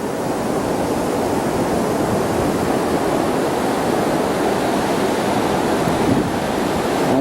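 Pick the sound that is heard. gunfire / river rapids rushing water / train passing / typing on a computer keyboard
river rapids rushing water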